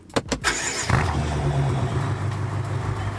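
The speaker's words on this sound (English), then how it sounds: "we're going to get the engine started, because this thing sounds bloody good." A BMW F10 M5 engine cranks with a few sharp starter bursts, then catches and settles into a loud, deep, steady idle close by.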